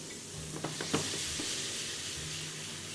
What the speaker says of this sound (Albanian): i skuqim nga të dy anët